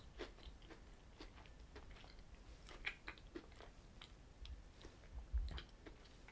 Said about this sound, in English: Lots of crunch there.